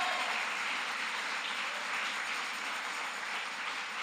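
A church congregation applauds during worship, a thick, continuous wash of many hands clapping at an even level throughout.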